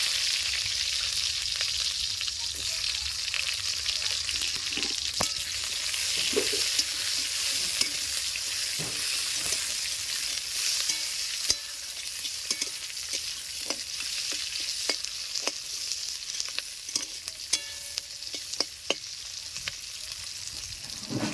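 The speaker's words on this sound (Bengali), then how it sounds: "পেঁয়াজটা হালকা হালকা ভেজে দেবো।" Chopped onions frying lightly in a pan with cumin seeds and bay leaf, giving a soft, steady sizzle with intermittent scraping stirs, heard close and without talk throughout.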